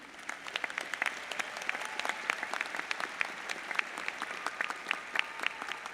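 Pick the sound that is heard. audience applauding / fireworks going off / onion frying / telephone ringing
audience applauding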